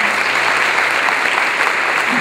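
Loud, dense applause from a church congregation during a worship service, a steady wash of many hands clapping at once, filling the whole stretch without a break.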